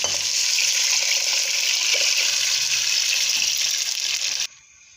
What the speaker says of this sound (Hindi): पानी इसके अंदर ऐड कर दिया